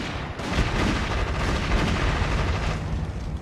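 Dense gunfire and blasts in the toy-soldier strategy game Army Men RTS, a continuous rattling barrage heard close and loud for several seconds.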